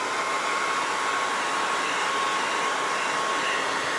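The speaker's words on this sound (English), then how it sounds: "you still have to listen to the blow dryer" A handheld blow dryer runs steadily on paint during a craft project, a loud, even, close-up airy whoosh with a constant motor whine and no break.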